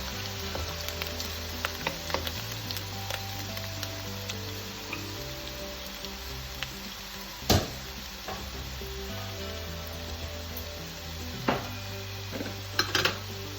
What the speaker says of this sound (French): Laisse-le frire un peu.